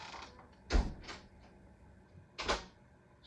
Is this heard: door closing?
yes